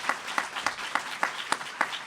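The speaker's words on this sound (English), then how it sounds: "a big round of applause for the Forum team" A small audience applauds the Forum team at a Canada's Drag Race event, distinct individual claps landing in a steady rhythm, close and clear.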